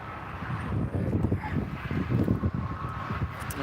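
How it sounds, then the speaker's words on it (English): Wind blows steadily across the Tesla Giga Texas construction site in Austin, a rough, gusting rumble of wind hitting the microphone that rises and falls over several seconds, with no voices. "Oh, and it's always windy here."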